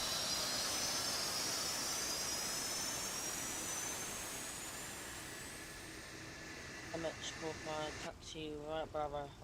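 Concorde jet engines spool up during a start at the gate in the X-Plane 12 flight simulator, a loud rising whine over a roaring rush that gradually eases, with someone talking near the end.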